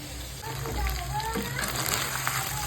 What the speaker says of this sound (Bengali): মাছের মাথাগুলো এই যে ভাজা হচ্ছে